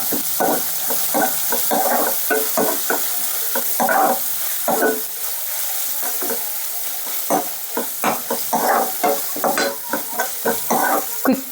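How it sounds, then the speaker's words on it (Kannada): Mint leaves frying in oil in a pan, a steady sizzle under repeated brisk stirring strokes that scrape and clatter in a quick rhythm, loud and close. "ಚೆನ್ನಾಗಿ ಫ್ರೈ ಮಾಡಿಕೊಂಡು ಇದ್ರ ಜೊತೆಲಿ ಪುದೀನೂ ಹಾಕ್ತಾ ಇದ್ದೀನಿ"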